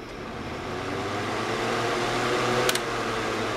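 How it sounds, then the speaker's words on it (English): Beside a laptop, an electric fan runs with a steady, close whooshing hum and a low motor drone that holds constant throughout, with one faint brief click near the end. "I have a fan over here"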